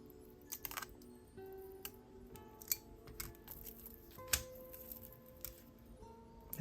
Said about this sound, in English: Let me snip off the excess.